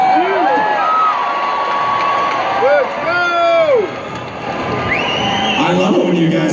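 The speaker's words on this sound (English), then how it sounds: "I love it when you guys scream along like that." A large crowd at a rock concert screams and cheers loudly with whoops and shouted voices, a dense continuous roar of people singing and yelling together across the whole stretch.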